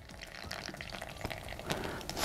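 Water just off the boil poured into an AeroPress, a soft, steady liquid trickle and splash that swells louder toward the end, with no talk.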